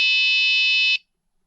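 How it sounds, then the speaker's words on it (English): A DumboRC receiver's low-voltage alarm buzzer sounds one steady, loud high-pitched tone for about a second, then cuts off into silence. "The low voltage buzzer gives alarm 7, 4, 3,"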